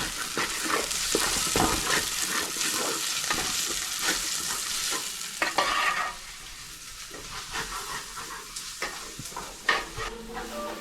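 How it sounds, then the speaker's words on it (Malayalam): Onion, ginger and garlic sautéing in a pan for pepper chicken crackle and sizzle up close, with repeated scrapes and knocks of a stirring spoon over nearly eleven seconds and no voices. "അപ്പോൾ ഇഞ്ചിയും വെളുത്തുള്ളിയും സോട്ടായി കഴിഞ്ഞു"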